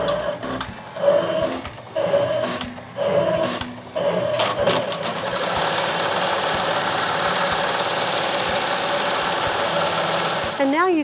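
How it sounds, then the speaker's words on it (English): BERNINA E 16 embroidery sewing machine stitching out a design: a few short stop-start bursts of needle clatter at first, then a steady, fast, continuous mechanical hum of stitching, close and fairly loud. "Now let's start the machine and stitch the design."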